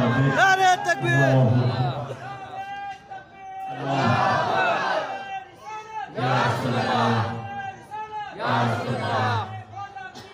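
A large crowd at a Sunni religious gathering roars the takbir slogan in response, several loud unison shouted waves with brief pauses between, close and dominant.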